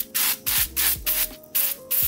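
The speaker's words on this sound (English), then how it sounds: "Another light spray of oil on the top just to get everything that's dry." Cooking oil is sprayed in light bursts over seasoned chicken wings before oven baking, about six short close hissing sprays in quick succession with brief gaps, alone and fairly loud.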